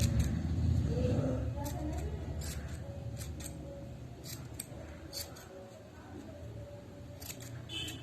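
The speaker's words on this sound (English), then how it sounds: "Keep on trimming, keep on cutting." Scissors snip and trim a yarn pom-pom close by, with a series of quick, sharp cuts spread irregularly through the clip over a low background rumble.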